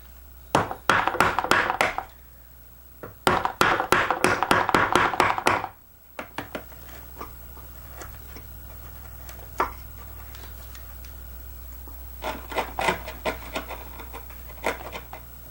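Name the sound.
chisel cutting and cleaning out a wooden dovetail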